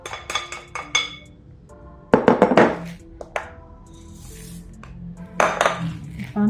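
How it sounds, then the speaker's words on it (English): Dry granola ingredients such as pumpkin seeds, sesame seeds and spices are handled in a container, with sharp clinks, knocks and rattling clatter in separate clusters and quiet gaps between them. "So now I'm going to go ahead and mix my dry ingredients in one container"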